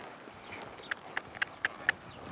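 Horse hooves striking the ground during riding, five crisp evenly spaced clops close by over a quiet background.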